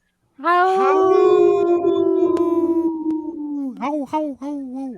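A wolf lets out one loud, close, sustained howl that slowly falls in pitch, followed by a few short, rising and falling yips.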